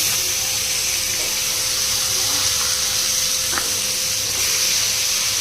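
Crabs fry in a pan with a constant loud sizzling hiss, broken by a few faint scraping touches as they are turned. No talking.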